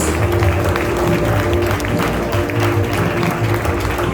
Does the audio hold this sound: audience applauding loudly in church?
yes